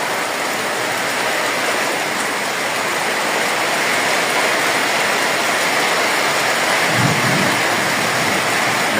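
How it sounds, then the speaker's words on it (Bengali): A thunderstorm brings heavy, unbroken rain with a dense roaring hiss throughout. A low rumble of thunder swells near the end. "মেঘেরও গর্জন বাড়তেছে"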